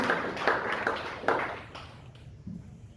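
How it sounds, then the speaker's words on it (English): An audience at a festival talk in Lancaster applauds, a dense burst of clapping with a few louder peaks that thins out and fades toward the end. "So a big round of applause to Andrew"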